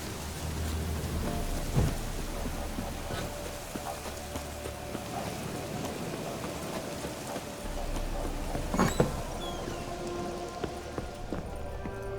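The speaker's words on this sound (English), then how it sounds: "Looks like rain." Steady rainfall and rolling thunder in The Witcher 3 storm scene, a continuous hiss of rain with two louder thunder cracks and rumbles, one early and one later, under faint horse hoof clops.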